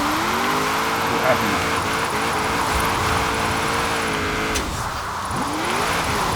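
Engine of a 1994 Nissan Fairlady Z Version S twin turbo AWD drift build in Forza Horizon 4, holding a steady sustained drone with a brief dip and rise near the end, loud and continuous under someone talking.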